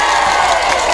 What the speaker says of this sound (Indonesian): Tepuk tangan untuk Bapak Presiden.